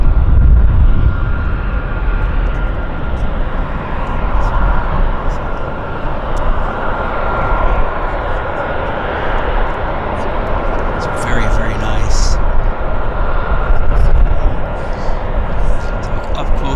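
Aircraft engines, such as a C-130 Hercules's, run on the ground at CFB Comox during an airshow media day, a continuous loud roar and whine held steady throughout while people talk over it.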